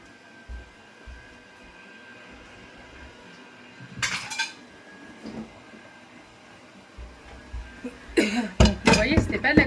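Small dishes and cutlery clink and clatter while being washed at a sink under steady running water, a few scattered knocks midway and a denser burst of sharp clinks near the end, close by.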